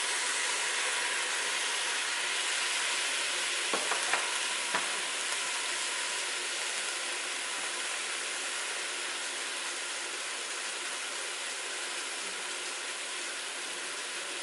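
Taco meat with peppers and garlic frying in a pan, a dense, continuous loud sizzle held steady throughout, with a couple of brief faint clicks near the start and no talking.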